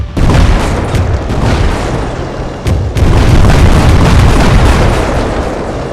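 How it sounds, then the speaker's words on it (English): Automatic 57mm cannons in the Minecraft Flans Mod blast out in a dense, continuous barrage of loud booming shots, broken by one brief pause before the rapid fire resumes. "the automatic 57mm cannons are deadly against tanks."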